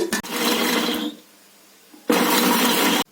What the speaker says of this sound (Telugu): పిచ్చాగా మిక్సీ చేస్తాను.